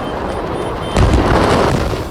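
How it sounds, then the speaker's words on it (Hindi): Loud, rumbling blast noise from a firecracker factory explosion, a dense roar that surges and stays heavy and turbulent after a sudden jump in intensity, with no voices. "कैसे पटाखा फैक्ट्री में हो रहे एक के बाद एक धमाकों से धरती भी कांप रही थी।"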